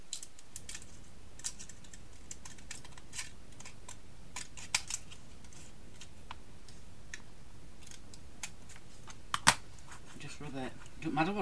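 Scissors cutting out tin foil: faint, sparse crisp snips and clicks scattered over a quiet background, with a sharper crinkle near the end.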